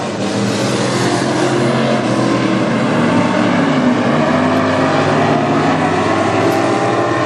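WISSOTA Midwest Modified race cars roar around the dirt oval at North Central Speedway during a B main, with a loud, steady wall of engine noise from the pack throughout, no voices.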